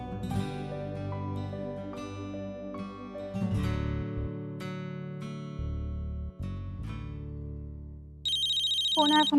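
A phone ringtone plays a loud, melodic electronic tune of sustained notes that shift in pitch. It ends with a bright, high-pitched warbling ring.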